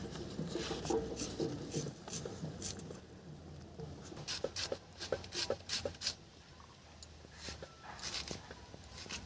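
Knife thinly slicing onions on a board: quick, soft, close cutting taps in a loose rhythm, with a faint rustling background and no talk.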